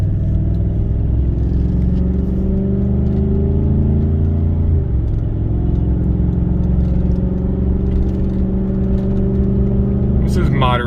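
A 2018 Chevrolet Silverado fitted with a Magnaflow muffler accelerates moderately uphill, heard from inside the cab as a steady low engine drone and rumble that climbs gradually, with someone talking over it.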